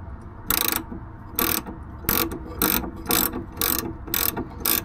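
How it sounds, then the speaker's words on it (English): A ratchet spanner turns a nut on the steering arm link of a Rover P6, making loud rapid clicking bursts in a steady back-and-forth rhythm, close up and alone. "I love my ratchet spanners."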